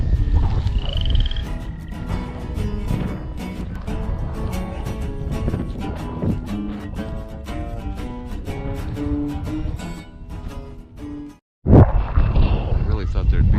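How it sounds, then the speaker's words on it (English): Frogs croak in a dense, continuous chorus at the edge of a flooded field during bowfishing, with a brief dropout near the end. "Oh, frogs."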